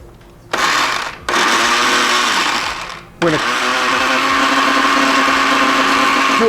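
A blender purees blueberries, sugar and vinegar into a vinaigrette dressing, a loud whirring motor roar that starts, dips briefly, cuts out for a moment, then runs steadily.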